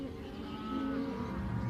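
Cattle low in a continuous, fairly loud drawn-out moo layered over a steady outdoor background, with a second voice overlapping near the end.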